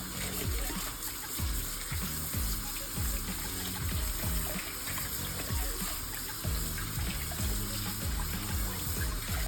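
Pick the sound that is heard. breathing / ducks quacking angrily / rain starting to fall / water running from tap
water running from tap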